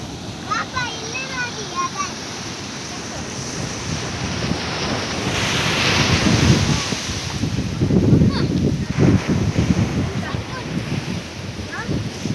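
Big monsoon waves crash at Kaup beach, a loud continuous surf roar with wind noise that swells into heavier breaking surges midway, while a voice briefly exclaims over it.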